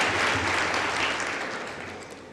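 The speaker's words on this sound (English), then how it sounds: "We have the best choir in the country. Best university choir. Give them an round of applause." A large crowd at a university graduation ceremony applauds the choir, dense continuous clapping that starts loud and slowly fades, with no voices over it.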